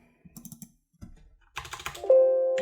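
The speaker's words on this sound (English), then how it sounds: "I'm going to type in our ticker for today" Fingers type a stock ticker on a computer keyboard in a few quick clustered taps, followed by a louder burst of keystrokes and a brief electronic tone at the end, close and clear with no talking.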